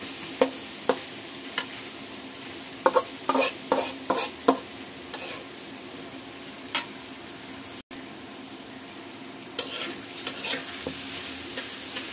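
Spatula scraping and knocking in a hot pan as onion, carrot and egg fry for chicken fried rice, with a steady low sizzle and bursts of stirring clatter that come and go, close and alone.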